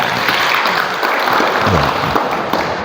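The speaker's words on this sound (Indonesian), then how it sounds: "Tepuk tangan untuk semua, ya." Audience applause at a Buddhist Asadha day gathering, a steady dense wash of clapping that continues throughout, loud and close with no pauses.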